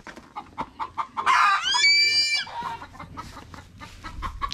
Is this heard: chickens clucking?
yes